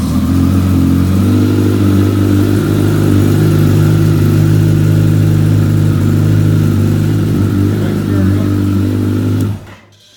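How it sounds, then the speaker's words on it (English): A 2014 Kawasaki ZX14R with a reflashed ECU, after sitting all winter, runs at a loud, steady, close idle before the engine cuts off abruptly near the end. "the bike started up right away"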